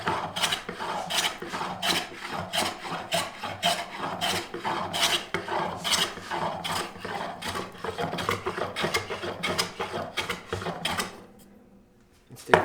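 A hand scrub plane takes heavy cuts in walnut, a series of rough rasping strokes in steady rhythm, close and loud, ending with a brief pause and a clunk.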